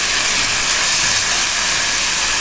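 Capsicum sautéing in a pan for a stuffed paneer kulcha filling, giving a loud, steady sizzling hiss that holds evenly from start to finish with no talk over it.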